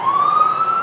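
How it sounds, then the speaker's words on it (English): A siren rings out steadily along a city street, one sustained rising tone holding loud and continuous for the whole moment with no talk over it. "we've got some sirens going on"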